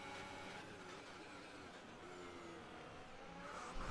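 A Ferrari power unit in an F1 racing game drones steadily from the rear of the car, a continuous engine hum with a slight rise and a burst near the end, no voices.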